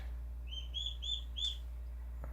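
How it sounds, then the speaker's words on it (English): Baby birds in a living room give a few short, high chirps in quick succession, faint and somewhat distant over a steady low room hum. "You are hearing some baby birds in the living room."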